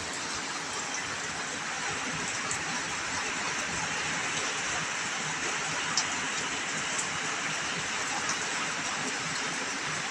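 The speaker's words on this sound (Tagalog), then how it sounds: "Ay, maulan na naman, maulan." Steady, dense rain hissing evenly throughout, a broad wash of noise with occasional faint drips and no clear voices.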